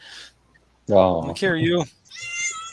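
A hungry cat meows near the microphone in a few drawn-out, crying calls, with a person's voice speaking briefly around them.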